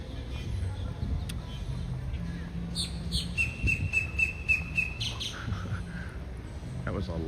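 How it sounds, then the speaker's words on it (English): A loud bird calls out at Walt Disney World with a series of sharp, rapid, high-pitched chirps, heard near and clearly over a steady background of outdoor ambience. "That was a very loud bird."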